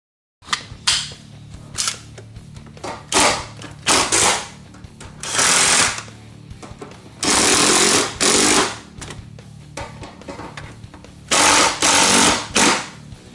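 An air impact gun driving fasteners while an MGW shifter is installed in a Mustang: several loud, harsh rattling bursts of varied length, separated by quieter gaps with faint workshop noise.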